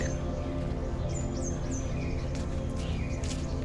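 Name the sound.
birds chirping in morning forest, Jhargram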